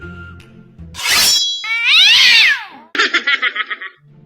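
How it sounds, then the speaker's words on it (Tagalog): A cat in a rural provincial home yowls loudly and close, with a long rising wail followed by a stuttering run of rapid meows. "pati yung pusa na paiyak na malakas"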